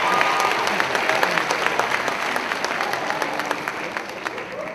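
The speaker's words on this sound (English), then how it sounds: "Give yourself a round of applause." Graduation commencement audience clapping, a full, steady wash of applause from a large crowd, continuous throughout with faint background voices mixed in.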